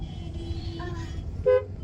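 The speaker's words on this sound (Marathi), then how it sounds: "फायनली आता आम्ही घरी चाललेलो आहे. ट्रॅफिक आहे थोडं." Pune road traffic idles and rolls past, with a couple of car horns honking briefly, one a longer toot, over a low vehicle rumble.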